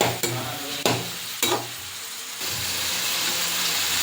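Chopped ginger, garlic and onion sizzle in a pan for home-made fried rice, with a few loud spatula scrapes before the frying settles into a steady, bright hiss.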